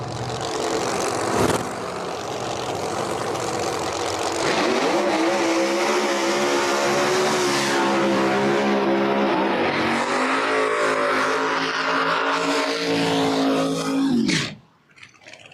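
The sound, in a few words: drag race cars doing burnouts, including a nitrous-fed Mustang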